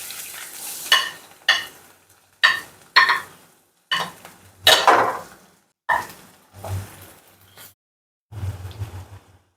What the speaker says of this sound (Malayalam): ഇനി ഇതിലേക്ക് രണ്ട് സവാള നേരത്തെ അരിഞ്ഞ് ചേർത്ത് ഒന്ന് വാഴ്ത്തിയെടുക്കാം